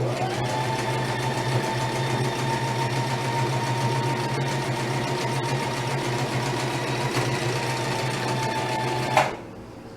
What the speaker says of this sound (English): So this is actually the first time I'm making one on a sewing machine.